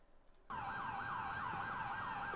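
An ambulance siren in GTA IV with the LCPDFR police mod starts abruptly and loops a rapid rising-and-falling yelp, steady and fairly loud after a quiet moment, with no talk.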